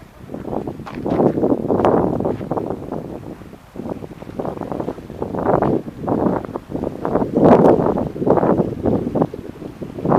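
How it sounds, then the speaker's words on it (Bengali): Strong wind gusts buffet the microphone in loud, surging waves of roaring noise, beside the Indus River near snowy mountains. "হাওয়া খুব জোরেই বইছে"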